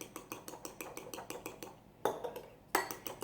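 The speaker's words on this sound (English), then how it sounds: "So we're gonna beat the eggs up with a fork" A fork beats eggs in a small bowl with quick, regular clinks of metal on the bowl, close and fairly loud, followed by two heavier knocks.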